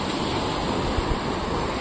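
A brief, steady wash of sea surf at Chivla beach, Malvan, loud and constant with wind noise and no voices.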